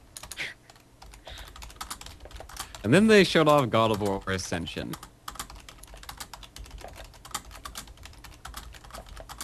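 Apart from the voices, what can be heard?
typing on a loud computer keyboard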